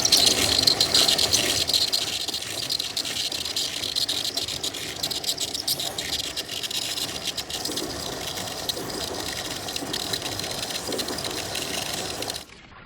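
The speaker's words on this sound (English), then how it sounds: "we're going to go with the first round of polish, and I got 100 grit ready to go in my old machine" An old sphere polishing machine runs steadily with 100 grit on a spotted basalt sphere, giving a continuous close gritty rattle and hiss that stops abruptly near the end.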